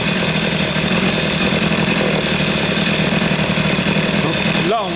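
A chainsaw engine runs steadily at a constant idle while its carburetor L screw is adjusted, a loud continuous buzzing drone with a brief rising pitch change near the end.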